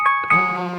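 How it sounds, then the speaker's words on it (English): Phone alarm going off with a short bright chiming melody of sustained ringing tones, loud and close, lasting under a second with no talk. "apologies, that was my alarm."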